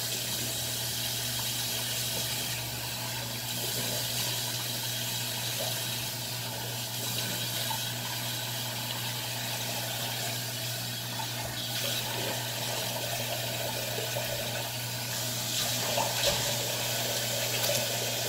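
Water runs steadily from a tap, with soft splashing as it's used for rinsing a face mask off, close by and continuous throughout.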